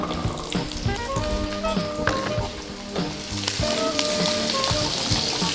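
Small onions (shallots) frying in hot oil for a Tamil chicken curry, a loud, steady crackling sizzle with scraping stir strokes throughout.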